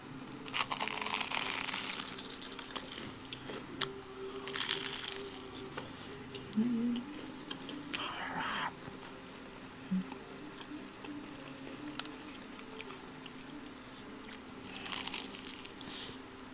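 Someone bites and chews crunchy fried Chowking food up close, giving loud crackling crunches in bursts with quieter chewing between them and occasional speech.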